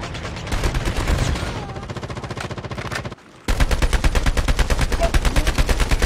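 Rapid bursts of automatic gunfire from a video game, loud and continuous, with a brief pause before another sustained volley of shots.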